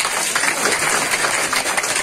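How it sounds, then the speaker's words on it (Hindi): Audience applause at a political gathering of Bharatiya Janata Party workers in Jammu and Kashmir, a dense, steady wash of clapping without a clear break, heard alone at close range. "तालियां"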